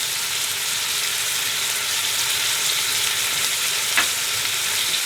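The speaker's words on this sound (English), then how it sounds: "Now you keep frying this meat till the meat releases its juices and fries in its own gravy till it's nice and brown" Lamb pieces fry in a wide pot, giving a steady, close sizzle and crackle that holds even throughout, with one short sharp clink partway in.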